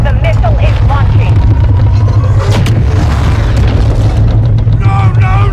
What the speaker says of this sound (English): Our station's missile is hot. I say again, the missile is launching.